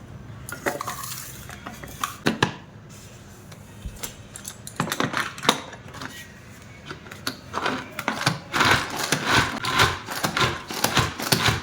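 Coarsely cut onion being chopped in a hand-pulled chopper for spicy tomato chutney: rapid clattering, whirring bursts of blades and plastic, close and fairly loud, building to a dense run of churning near the end, with no talking.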